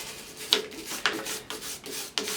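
Old gasket material being scraped off an engine intake during an EGR delete, heard as four or five sharp, close scraping strokes spaced about half a second apart, each starting with a bright rasp and trailing off.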